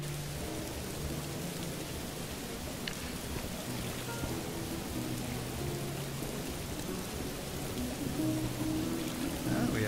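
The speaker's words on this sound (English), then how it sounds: "under the rain also." Steady rain falls in the Morrowind game, a dense, even hiss held at one level throughout, with faint sustained musical tones beneath and no voices.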